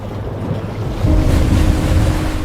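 Ocean surf rolls in steadily, with waves breaking and a swell building louder about a second in. Wind rushes across the microphone throughout, and no one speaks.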